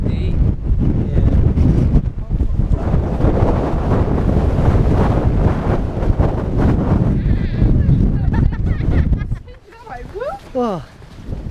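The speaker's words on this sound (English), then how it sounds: "Windy." Gusty coastal wind buffets the microphone in a loud, steady roar for most of the stretch, then eases near the end, leaving a quieter lull with a few brief high chirps.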